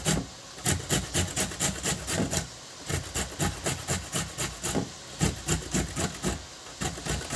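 Carrot grated by hand on a grater, a fast steady run of short rasping strokes repeated close up throughout, with no talking.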